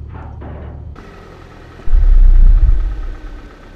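In a night-shift video game, a car engine hums low at first, then swells into a loud, deep rumble for about a second before easing back down.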